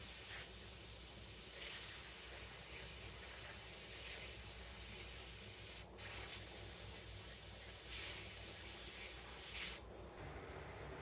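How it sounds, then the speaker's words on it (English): Aerosol spray hissing steadily onto a taxidermy deer head, working from the glass eye outward, a soft continuous close hiss with two brief breaks. "So you're not really wanting to spray on the deer on this."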